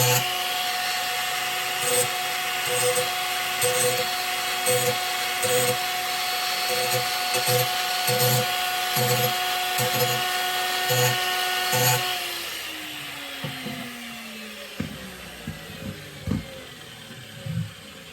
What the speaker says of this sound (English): When using an angle grinder, it doesn't take much to take the metal off, so I just touch it really lightly